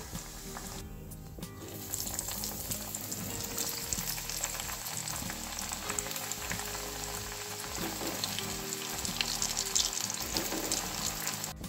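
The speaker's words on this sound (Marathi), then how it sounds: "तर अशाच प्रकारे आपण सर्व ज्या वड्या आहेत या तळून घेऊया" Methi vadi, fenugreek fritters, deep frying in hot oil, giving a dense, continuous bubbling sizzle that stays loud and close for the whole stretch after a brief quieter opening.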